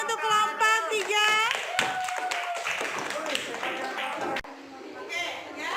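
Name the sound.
applause for presenting group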